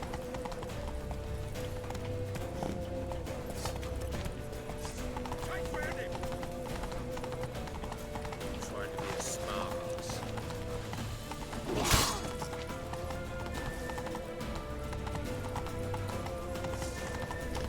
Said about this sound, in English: It keeps auto-slowing my horse down.